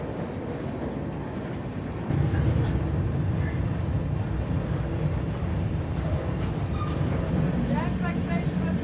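Freight train rolling fast through a rail yard, a loud continuous rumble and rattle of cars heard from on board that swells after a couple of seconds, with faint squeals late on.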